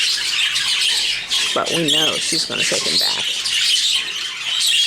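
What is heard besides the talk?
birds squawking in breeding boxes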